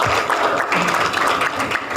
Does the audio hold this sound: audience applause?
yes